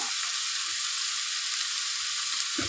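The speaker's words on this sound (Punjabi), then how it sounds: "ਆਪਾਂ ਨੇ ਲਸਣ ਫਰਾਈ ਕਰ ਲਿਆ" Garlic fries in hot oil with a continuous, even sizzle, close and fairly loud, with a brief low thump just before the end and no talking.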